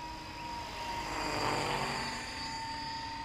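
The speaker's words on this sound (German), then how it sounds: "Klingt total cool, wenn er vorbeifliegt, der Rotor" A small electric RC helicopter, an Eco 7 flying a long endurance run, sweeps past with a steady whirring rotor that swells and fades, its blades giving a rhythmic thumping from air churned between main and tail rotor.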